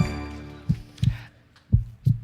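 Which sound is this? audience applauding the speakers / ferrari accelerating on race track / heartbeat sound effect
heartbeat sound effect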